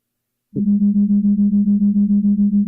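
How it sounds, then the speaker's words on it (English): After a brief silence, a low steady tone starts and holds with a gentle regular pulsing wobble, smooth and constant until the end. "They're called binaural beats."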